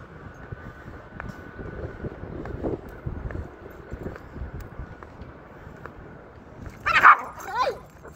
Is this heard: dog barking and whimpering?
yes